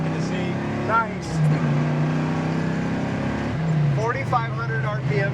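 A 1970 Camaro Z28 V8 pulls hard under acceleration with a steady engine drone, dipping briefly at gear shifts around 4,500 RPM as it climbs again, heard from inside the car with occasional voices over it.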